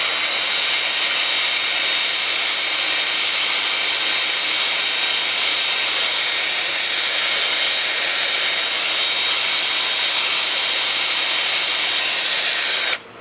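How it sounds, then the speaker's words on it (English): A steady, loud broadband hiss of sandpaper against spinning koa wood on a lathe runs unbroken and close, cutting off abruptly at the very end. "I'm gonna spot sand it like this in place until I get rid of all this mess, and then I'll spin it while it's turning"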